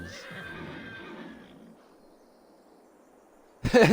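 Horse whinnying in the video game Farming Simulator 22, a single drawn-out neigh that fades after about a second and a half, then near silence before a sudden loud burst at the end.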